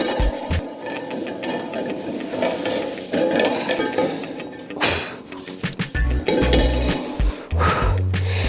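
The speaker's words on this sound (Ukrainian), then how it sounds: "тепер масло витираємо насухо" An old frying pan coated in oil is wiped dry by hand, giving scraping, rubbing sounds and metallic clinks and knocks that grow louder toward the end, with no talking.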